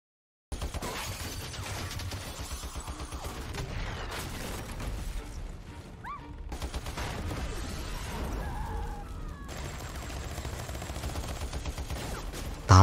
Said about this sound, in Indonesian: dua anak buah si Yuri ini datang nembakin ngebabi buta di sana